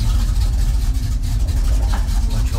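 A 1967 Ford Mustang Fastback runs with a steady, deep low rumble, loud and close, holding an even note throughout without pauses.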